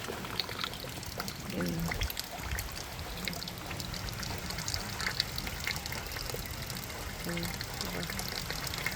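Collected rainwater pouring and splashing continuously on a windy, cold, rainy day, a steady close wash of water with a voice speaking briefly over it.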